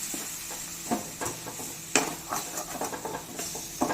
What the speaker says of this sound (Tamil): அந்த வெங்காயத்தை சேர்த்து நல்லா வதக்கி வச்சுக்கலாம்